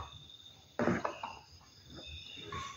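A single sharp cough stands out over a quiet room with a faint steady whine, followed by a few softer throaty sounds.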